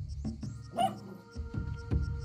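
A dog barks and yips a few times in Spelunky 2, short sharp calls over steady game music and background sounds, fairly close.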